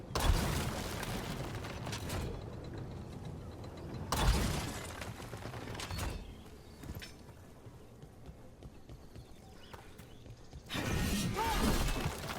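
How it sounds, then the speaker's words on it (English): Wooden boxes smashed by melee attacks in Dragon Age: The Veilguard, several loud crashing, splintering bursts at irregular intervals over game ambience. "Take that, you boxes."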